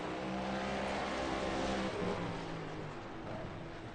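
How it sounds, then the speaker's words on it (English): Race cars in a racing game circle the Martinsville short track, a continuous dense engine drone with overlapping whining tones swelling and fading slightly as they pass, no speech. "Now you'll be able to hear the cars coming around the track."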